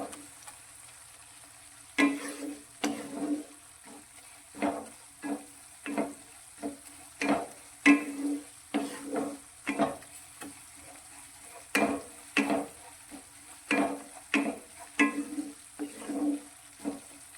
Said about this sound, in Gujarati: તો એકદમ સરસ રીતે બધું તેલ છૂટું પડી જાય ત્યાં સુધી તેને આ રીતે મિક્સ કરતા જઈશું